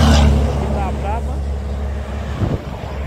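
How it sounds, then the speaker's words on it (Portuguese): A truck passes on the BR-101 highway, its engine roar loud at first and then fading, while a person talks over the road noise. "Deixa eu passar esse caminhão aí"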